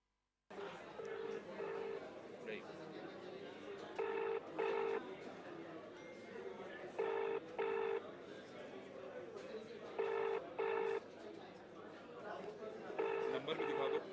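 Telephone ringback tones from a call to a district magistrate's phone that goes unanswered, paired ringing bursts repeating every few seconds over steady room noise and faint chatter.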